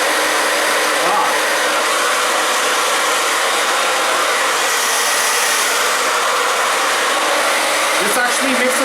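Conair InfinitiPro 1875W hair dryer with a diffuser attached blows a steady, close, broadband rush of air that continues almost unchanged, with a brief handling knock near the end.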